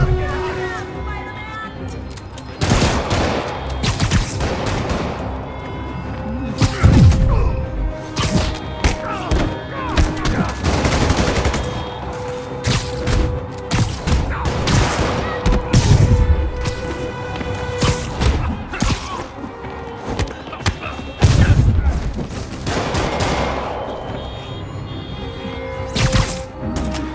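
Gunfire and heavy thuds from the video game Spider-Man Remastered come in repeated loud bursts between quieter stretches, with voices talking and crowd noise throughout.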